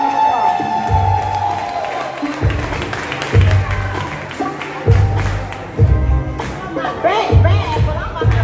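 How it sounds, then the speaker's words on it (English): Ballroom audience at a candidate meet and greet clapping and cheering for an event coordinator, loud applause with whoops and scattered shouts, plus rhythmic thumping underneath as it goes on. "Will you please give her a round of applause?"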